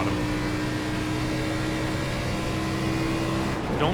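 A race car engine drones steadily while lapping Homestead-Miami in the video game iRacing, with a constant, loud in-car tone and no speech.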